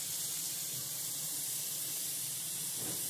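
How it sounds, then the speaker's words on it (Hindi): Cornflour-coated aloo tikki sizzles in hot oil in a kadhai, giving a steady, dense frying hiss that stays close and constant throughout with no voices. "अब इसे भी हम तलने के लिए कढ़ाई में डाल देते हैं।"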